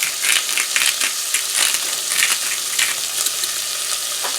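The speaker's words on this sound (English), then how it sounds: "we're just going to let that cook up for a couple of minutes so they get a little brown" Cactus pieces frying in a pan over medium heat for vegan tacos, giving a steady close sizzle with crisp crackling pops and occasional stirring clicks.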